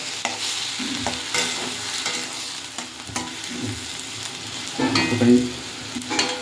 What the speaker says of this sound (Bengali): এই যে বন্ধুরা ওটা একটু ভাজা হচ্ছে পাতাটা